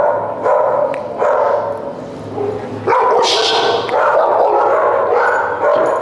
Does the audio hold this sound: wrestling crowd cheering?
no